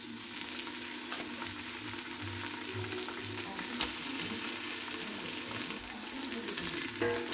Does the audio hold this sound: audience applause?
no